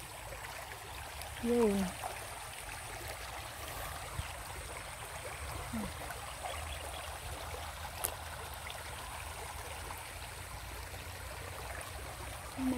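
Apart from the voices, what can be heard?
flowing river stream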